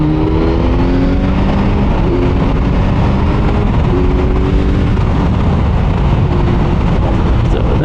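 A 2024 Kawasaki Z900 motorcycle accelerates hard in fifth gear, heard from on board as a loud, continuous engine roar with rising pitch under heavy wind rush.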